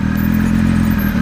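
A Triumph Speed Triple RS 1050 motorcycle runs with a steady, close, loud engine drone and a low, even throb, with no one speaking.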